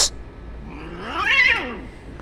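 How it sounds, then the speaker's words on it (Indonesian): Cats fight on a street at night in Jeddah, with one drawn-out rising and falling yowl lasting under two seconds, heard at moderate distance over faint background noise. "Kucingnya berantem."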